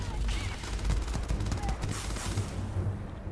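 Rapid bursts of gunfire from the sci-fi video game Starfield crackle densely and continuously, close and loud, with voices mixed in among the shots.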